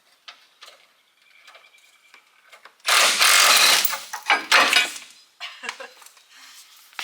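A crescent wrench works a sway bar link bolt on an '05 Cummins: sparse metallic ticks and clicks, then a few seconds of loud, dense ratcheting and clanking in bursts, easing back to scattered close taps.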